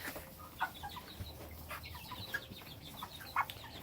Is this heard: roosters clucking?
yes